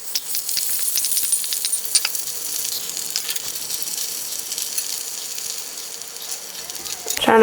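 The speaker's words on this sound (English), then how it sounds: "So it's been frying for almost 3 minutes." Hot oil sizzles and crackles steadily with sharp pops as corn fries, a continuous frying hiss ending in a loud clatter.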